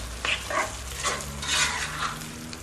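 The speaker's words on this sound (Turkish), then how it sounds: "Domatesi, tuzu ve pul biberi katıyoruz domates şeklini kaybedene kadar pişiriyoruz." Tomatoes with salt and pepper flakes cook in a pan, giving a continuous soft sizzle with gentle stirring scrapes, close and steady throughout.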